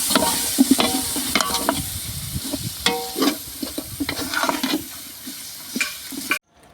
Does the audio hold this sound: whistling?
no